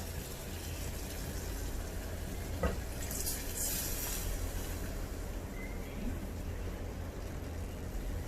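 Water is poured from a blender jar into a pot of mushy cooked tomatoes for rasam, a steady splashing fill running under kitchen background noise.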